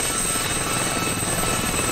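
A Gazelle helicopter flying in a video game, its steady rotor thrum and engine whine holding an even level throughout with no voices.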